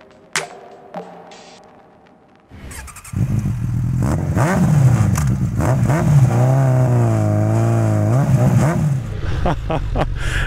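A Suzuki Bandit 650 motorcycle fitted with a shifter starts up and revs loudly nearby after a few quiet seconds, its engine note rising and falling through several throttle blips, with no talk.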